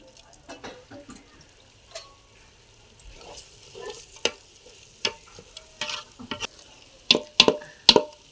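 Masala spices, bay leaf, mint and curry leaves fry in oil for pulao. Scattered sharp crackles and spatters rise over a faint background sizzle, growing louder and busier toward the end.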